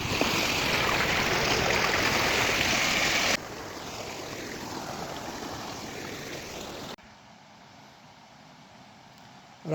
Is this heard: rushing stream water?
yes